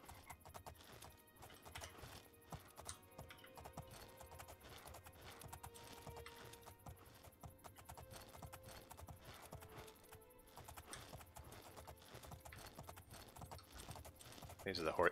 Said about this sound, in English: These are the fastest horses in the game.